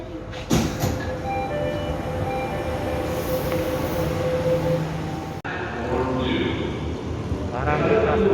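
Riding aboard a Jakarta MRT subway train underground, a steady rumbling roll with faint whining and squealing tones, a brief drop in the noise, then rising electric motor whine as the train moves on.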